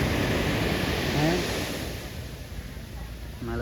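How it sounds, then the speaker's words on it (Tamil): Sea waves surge onto the shore at Velankanni beach as a steady, loud roar of broadband surf, with a person's voice briefly audible near the end. "எப்படி அலை பயங்கரமாக இருக்கா"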